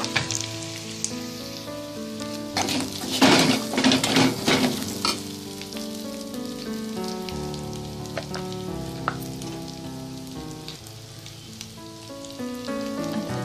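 Peeled boiled jackfruit seeds fry in plenty of hot oil for a curry, a steady close sizzle with bursts of stirring and crackle midway, under a faint musical background and no talk.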